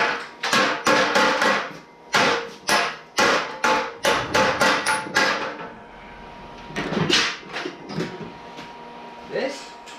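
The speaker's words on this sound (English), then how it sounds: "Hand me a body hammer." A body hammer striking metal subrails on a Model A car: a fast run of sharp, loud metallic blows in quick bursts, then a pause and a few scattered strikes, with people talking in between.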